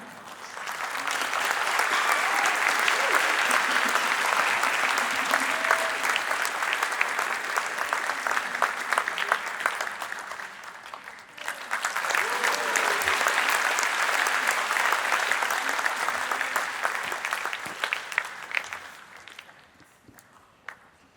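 A concert hall audience breaks into sustained applause in two long waves, dense and loud, fading out near the end.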